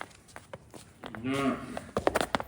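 Cows and young heifers at a dairy farm, one animal giving a single close moo in the middle, with footsteps and someone talking around it.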